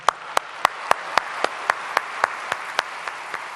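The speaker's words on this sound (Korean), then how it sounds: "나오실 때 박수로 환영하시겠습니다" A small audience claps to welcome a guest lecturer at a prayer meeting for peaceful reunification, about a dozen distinct, evenly spaced claps ringing out alone and fairly close.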